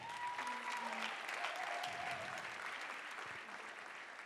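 Audience applause for student performers, BTS accounting apprentices doing a rap stage piece, a steady sustained wash of many hands clapping throughout, with a faint tone and murmurs underneath.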